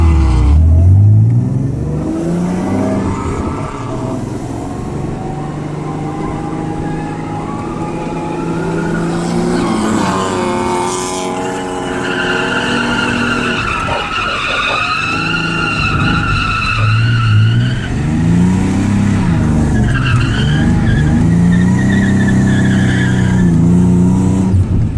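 A Nissan Z drifting at a grassroots drift day, heard loud and close from the cabin: a revving, droning engine whose pitch rises and falls, with long tire squeal and skidding as the car slides through corners.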